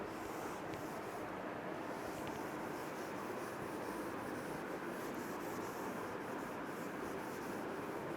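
Steady dry rubbing of an eraser across a classroom board, a continuous scratchy friction that runs unbroken for several seconds at moderate level with no voice over it.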